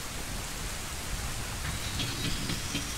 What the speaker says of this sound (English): Lightning? Thunder? The bridge is up in the middle of the day. It's getting dark. It's raining.